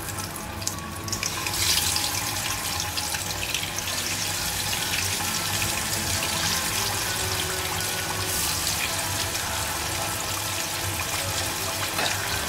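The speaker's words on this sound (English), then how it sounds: "now we fry the fish" Fish frying in hot oil in a pan while preparing fish sambal gives a steady, dense sizzle that holds evenly from start to finish, close and fairly loud, with no talk over it.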